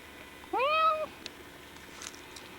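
A single short, clear meow from a cat in a backyard, close and distinct against quiet outdoor background.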